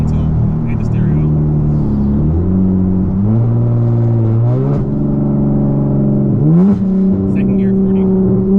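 Tuned V6 Dodge Charger in track mode pulling hard, engine note climbing steadily through the gears with sharp shifts and a rising howl, loud and close, with people talking over it.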